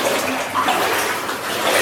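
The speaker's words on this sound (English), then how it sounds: "me sloshing through the water" A person wades and sloshes through thigh-deep water inside a flooded gold mine tunnel, producing continuous splashing and churning close by, steady throughout with no talking.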